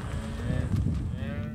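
Male beef cattle on a farm give a deep, close moo, one sustained bellow that wavers in pitch, with no speech over it.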